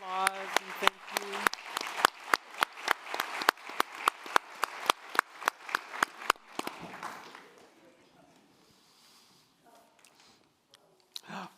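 An audience at an art talk claps in a crisp round of applause that fades out after about seven seconds, leaving near silence with a few scattered claps.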